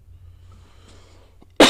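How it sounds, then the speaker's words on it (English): A single short, harsh cough bursts out loudly at the very end, after a quiet stretch of low room hum. "That's not a COVID cough."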